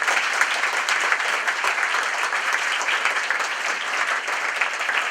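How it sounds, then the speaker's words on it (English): An audience applauds steadily at an award ceremony, a dense even wash of clapping that carries on for several seconds with no talk over it. "please give them a round of applause."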